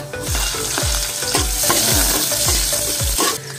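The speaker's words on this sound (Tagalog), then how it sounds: "So gigisa naman natin ngayon ang bawang." Garlic sizzles and fries in a pan, joined by onion, with a steady crackling hiss and repeated rhythmic scraping knocks of a utensil stirring, close and loud, no voices.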